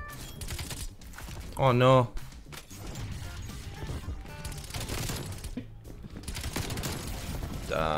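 PPSh submachine gun fire in Call of Duty: Cold War: rapid automatic bursts crackle through busy match noise while a player talks over the action.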